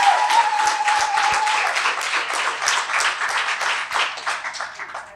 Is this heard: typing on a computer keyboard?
no